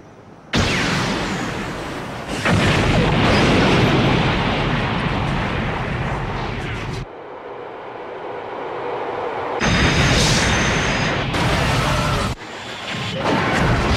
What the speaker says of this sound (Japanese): 同時多発で爆発は起こっています